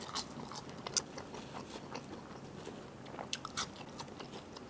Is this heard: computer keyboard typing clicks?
no